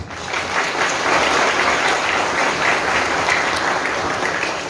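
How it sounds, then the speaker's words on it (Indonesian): Sustained audience applause after a patriotic drama performance, a dense steady clatter of many hands clapping at even loudness throughout, with no voices over it. "Tepuk tangan."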